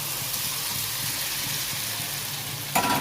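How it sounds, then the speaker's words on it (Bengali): Fried eggs and potatoes go into a curry masala for egg curry and sizzle with a steady, even hiss, then a louder crackling surge near the end. No one speaks. "এবার আমি ডিম আলু ভাজাগুলো দিয়ে দিলাম"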